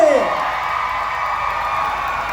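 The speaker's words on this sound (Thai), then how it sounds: "ขอเสียงกรี๊ดให้กับตัวเองหน่อย" A concert crowd screams and cheers loudly and continuously, with high whoops rising above the sustained roar.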